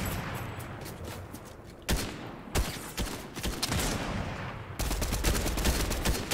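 Rapid gunfire in the Fortnite video game, dense bursts and sharp individual shots in quick succession, loud and continuous with a few heavier blasts.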